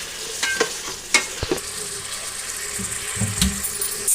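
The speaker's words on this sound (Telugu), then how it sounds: "టమాటాలు ఇవన్నీ వేసుకుని మంచిగా కలుపుకుందాం ఫ్రెండ్స్." Vegetables with carrots and tomatoes being stirred in a pan for veg biryani, a steady frying sizzle with scraping spoon strokes scattered throughout, close and moderately loud.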